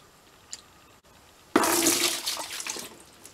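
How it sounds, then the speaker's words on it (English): After a brief quiet, hot water suddenly rushes loudly through RV plumbing, a steady gushing hiss that continues to the end. "Hot water coming through."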